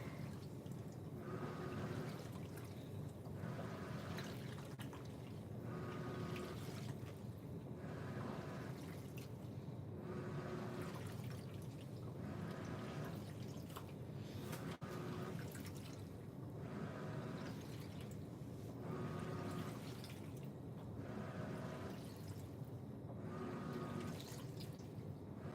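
A Black & Decker BPWM09W portable washing machine runs a rinse cycle, with water sloshing and dripping in a steady, repeating churning rhythm that continues loud and unbroken throughout.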